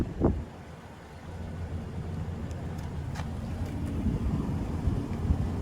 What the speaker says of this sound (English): And this wind just came out of nowhere.